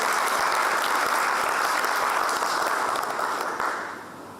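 A men's conference audience gives a speaker, a senior pastor, a dense round of clapping that stays loud and fades near the end.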